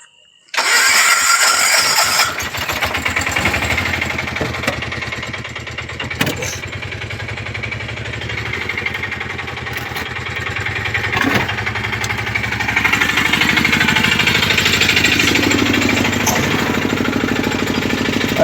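An auto rickshaw engine at night cranks and catches, then runs at a steady, loud, rattling idle close by for the rest of the stretch, swelling louder toward the end.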